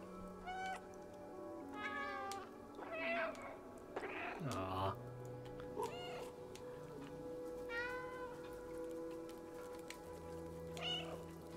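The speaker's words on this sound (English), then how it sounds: "Is that a meow?" A cat meows repeatedly in the video game Stray, drawn-out meows spaced a few seconds apart over a quiet, low background hum.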